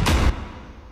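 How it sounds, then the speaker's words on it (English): Orchestral Spider-Man movie trailer sound effect: a single loud, broad impact burst that cuts off sharply after a moment, leaving a fading reverberant tail, with no one talking. "I have to use this trailer, Spider-Man trailer thing."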